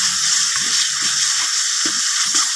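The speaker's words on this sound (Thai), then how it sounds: "ผัดเข้าไปเลยผัดแบบเนี้ย พริกแกงจะต้องผัดให้ถึงพริกถึงขิงแบบนี้นะ" Curry paste and pork belly stir-fry in a hot pan, giving a steady, bright sizzling hiss with soft scraping taps of the spatula every half second or so.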